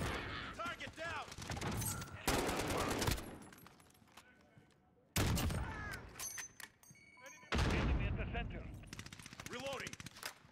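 Automatic gunfire from a Call of Duty Modern Warfare match: sustained bursts and rattling volleys in several loud waves, with short pauses between, while a player talks over the action.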